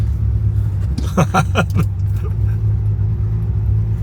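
A Datsun car on a test drive sends a steady low engine and road rumble through the cabin. Voice-like tones sound briefly over it partway through.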